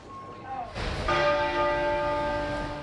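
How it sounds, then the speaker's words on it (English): Church bells toll in solemn tribute to the Queen at midday across the United Kingdom, ringing out loud and sustained after a quiet start, with rich overlapping tones that linger and slowly decay. "the bells tolled in a solemn tribute to the Queen"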